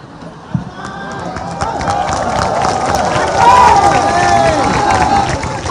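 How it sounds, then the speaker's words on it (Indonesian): Congregation at an Ustadz Abdul Somad sermon in Mentok, West Bangka, breaks into clapping and cheering; the crowd noise swells and stays loud and dense throughout. "Kenapa kalian tepuk tangan?"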